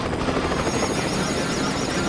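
A cartoon helicopter's rotor chops in a steady, loud buzzing whir, close and continuous with no voices over it.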